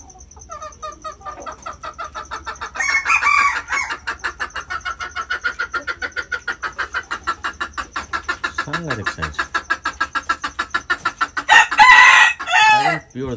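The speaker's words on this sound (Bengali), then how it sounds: "দিয়ে মোরগগুলো এনেছে এখন, শুধু দেশি মোরগ।" Native desi roosters bought at a village market crow loudly and repeatedly, with rapid pulsing clucks running throughout and bursts of crowing near the start and end, close by.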